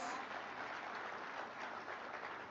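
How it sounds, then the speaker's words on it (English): At a Kenyan devolution gathering with county assembly speakers present, an audience claps in a brief, even patter of applause heard from a distance and fairly quiet. "Let's give them a better round of applause."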